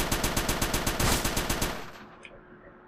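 Rapid, evenly spaced bursts of fire-bullet gunfire in the shooter game Crimsonland rattle loudly for about two seconds, then stop, leaving a couple of faint clicks.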